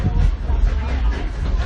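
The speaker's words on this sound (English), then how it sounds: "Here you get the train." The Dollywood Express, a steam train nicknamed Cindy, rolls along its tracks on a fall excursion, a loud, close, continuous rumbling hiss with no clear clicks standing out.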